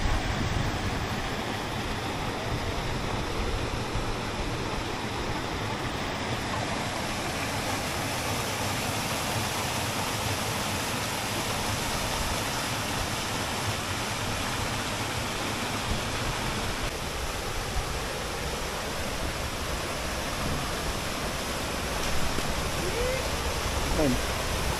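Steady, close rushing of a clear mountain stream in the Retezat mountains of Romania, a dense continuous roar of flowing water that barely changes over the long stretch.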